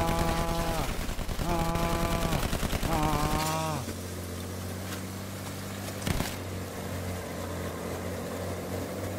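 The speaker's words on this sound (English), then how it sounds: "I don't know who's shooting at" Gunfire in the video game Battlefield 1 crackles in rapid bursts over a droning engine hum and game music, with a sharper single crack near the middle; no one speaks.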